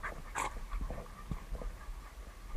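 A five-month-old hunting dog works a rabbit hunt on São Miguel in the Azores, giving short panting breaths and faint whimpers against an outdoor background, with light footfalls and rustle around it.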